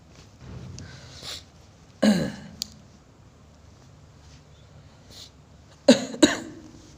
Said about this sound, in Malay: Dia batuk payah sikit nak mengajar.